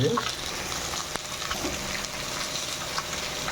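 Bahal fish frying in hot oil in a home kitchen, a steady close crackling sizzle with occasional sharper pops and a brief stirring clatter early on, no talk over it.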